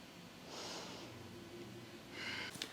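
A person holding a yoga pose in a golf warm-up routine takes slow, deep breaths: two soft airy exhales, the second ending with a short snort, close and quiet.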